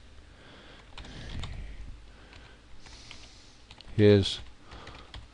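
An email message is typed on a computer keyboard, giving soft, scattered key taps close up, followed by a brief louder click, while a voice speaks briefly.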